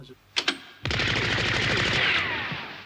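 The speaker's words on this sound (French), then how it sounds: "je me prends des balles de pistolet" Gunfire in the French-dubbed animated show Nicky Larson: two quick sharp shots, then a sustained rapid volley of repeated bangs, loud and close.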